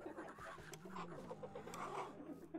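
Chickens cluck steadily in a Minecraft chicken coop, a low continuous stream of fowl calls with no talking.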